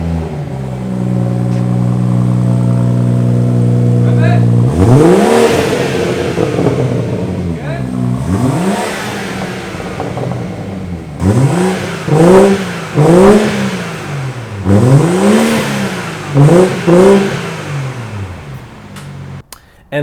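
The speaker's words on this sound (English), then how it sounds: "here's a sound clip of how it used to sound like with both resonators and just the muffler" Exhaust of a BMW 440i with the B58 engine, fitted with both resonators and a muffler delete, rising through a series of sharp revs after a steady idle, some short and clustered, the engine loud and close.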